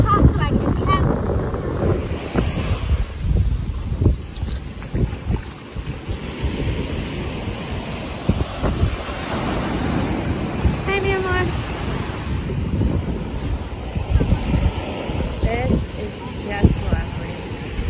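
Ocean waves wash onto the beach during a sunset walk at Henderson Beach State Park, a broad surf hiss heavily mixed with gusting wind buffeting the microphone, with people talking over it at times.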